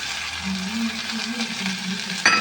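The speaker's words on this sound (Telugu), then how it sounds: "ఇప్పుడు ఇంకా ఆనియన్స్ పూర్తిగా ఫ్రై అయిపోయినట్టే ఇందులో ఇంకా ఈ టమాటోస్ అనేది వేసేద్దాం" Onions sizzling in a pan as tomatoes go in for a jackfruit seed curry, a continuous close frying hiss with a louder burst near the end as the tomatoes hit the hot oil.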